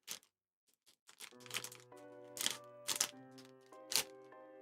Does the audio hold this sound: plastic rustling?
yes